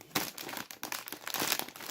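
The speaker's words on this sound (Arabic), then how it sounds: "ونفتح الكيس الخامس" A plastic Lulu Puffs tomato-flavoured snack bag crinkles and crackles loudly and up close in uneven bursts as it is opened, with no voices.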